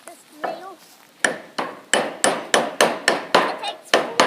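A hammer drives a nail during carpentry work: about ten sharp, loud strikes in a steady, even rhythm follow a brief stretch of talking.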